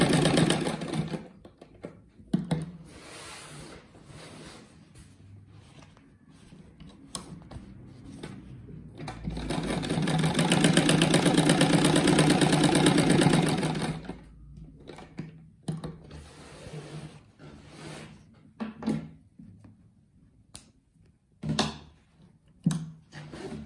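Sewing machine stitching a patchwork rug of fabric squares, running in short intermittent bursts and one long steady run in the middle, close and fairly loud with pauses between.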